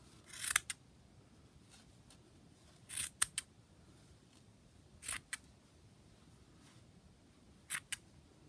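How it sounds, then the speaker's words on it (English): Scissors snip crochet yarn while a baby beanie is being finished, with about four sharp close cuts, some in quick double clicks, spaced apart over a quiet background. "now what we need to do is just cut like this"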